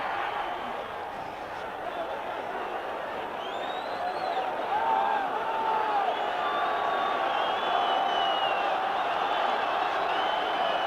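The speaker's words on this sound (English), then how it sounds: "The crowd really erupting here now" Spectators at a 1968 Argentina versus Wales rugby test match, a dense, sustained crowd roar building steadily, with whistles and whoops rising above it, loud and continuous from the stands.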